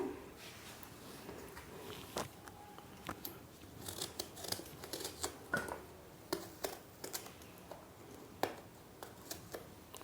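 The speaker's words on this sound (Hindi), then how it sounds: "तो ये बैंगन का हमने ऊपर का हिस्सा हटा दिया है और इसको हम काट लेंगे।" Knife slicing through eggplant on a cutting board at home, a string of soft, quick chops and taps with small irregular pauses, close and fairly quiet, with no talking.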